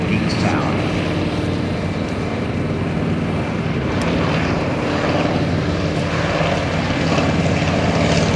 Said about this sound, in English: And then listen, high overhead as the T-28 Trojan comes by.